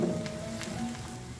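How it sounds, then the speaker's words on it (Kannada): Chopped ginger frying with onions in a hot pan gives a steady, soft sizzle, close and fairly quiet, with a faint crackle running throughout. "ಇದನ್ನು ಕೂಡ ಸ್ವಲ್ಪ ಹಸಿ ವಾಸನೆ ಹೋಗೋ ತನಕ ಫ್ರೈ ಮಾಡ್ಕೊಂಡು ಬರೋಣ."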